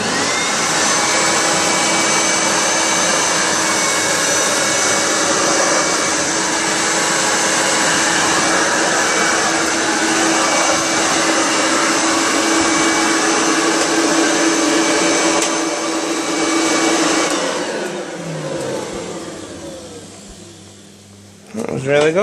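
A Hoover Turbomaster U4362 soft-bag vacuum cleaner runs on its hard floor setting with a loud, steady whine and rush of air. It holds for about seventeen seconds, then winds down and fades as it is switched off.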